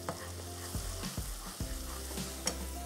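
Tomato pieces crushed with a spoon while cooking in a pan, with steady frying sizzle and several scraping stir strokes of the spoon, close and fairly quiet.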